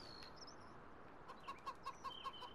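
Chickens in Farming Simulator 19 cluck in a quick, evenly spaced series of short notes over a soft ambient bed, with a few higher chirps early on; no talking.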